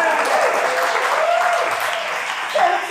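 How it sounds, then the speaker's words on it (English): A live improv comedy audience gives a steady round of applause as a scene begins, dense clapping filling the room throughout with a brief voice rising near the end. "All we need to get them started is a round of applause."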